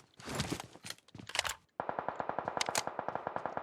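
PUBG Mobile gunfire: a few ragged bursts of shots, then a steady rapid stream of evenly spaced automatic rounds, close and punchy with no talking.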